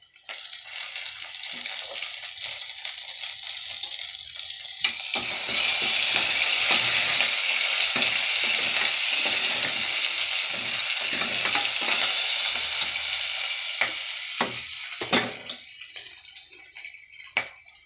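Onions and curry leaves fry in hot oil in a pan, a steady loud sizzle that swells partway through, with scattered scraping and clinks of a spoon stirring them.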